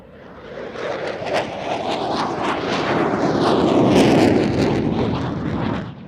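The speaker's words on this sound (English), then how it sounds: "The F-16 is doing a nice job of keeping this tight in front of the large audience at the airshow" F-16 and JF-17 fighter jets fly a display at an airshow, a broad roaring jet rumble that swells to a peak and fades as the aircraft pass, with some wind noise.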